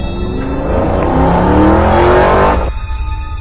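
Motorbikes in a cartoon approach and rev, a loud rising engine whine with climbing pitch that swells and then cuts off sharply near the end, no voices.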